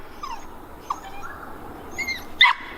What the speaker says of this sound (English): As you can hear, there's a dog in the trap.